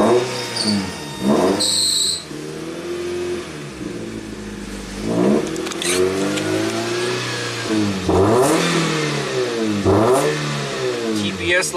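A 1987 Toyota MR2 with a hot no-start fault, engine revving and accelerating on a drive, rising and falling pitch sweeps in several pulls, loud and close from inside the car.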